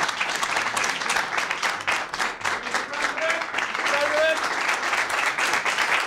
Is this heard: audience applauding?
yes